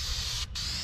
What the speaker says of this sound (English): I got all the front kind of spray painted that's gonna be behind the bumper